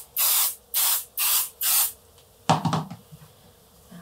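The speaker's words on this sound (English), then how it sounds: "So light spraying on the back on the backing." Spray adhesive misted onto quilt backing in four short, even hissing bursts, close and loud, followed by a softer rustle of fabric being handled.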